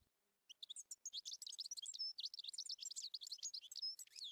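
A goldfinch sings alone, a rapid, continuous run of bright twittering chirps and trills, clear and fairly close, after a brief quiet start.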